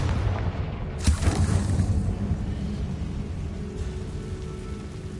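Confringo fire spell blasting in Hogwarts Legacy, a single loud boom with a crackling burst that decays into a lingering rumble, alone with no voices.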